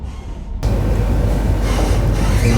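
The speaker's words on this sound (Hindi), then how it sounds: "थोड़ी देर में आने वाली है गांधीनगर वंदे भारत, क्रॉसिंग उठाते हैं" Gandhinagar Vande Bharat express rushing past a level crossing in India, a sudden loud, close, steady roar of wheels and air that swells in abruptly and stays constant.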